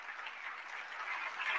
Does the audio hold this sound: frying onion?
no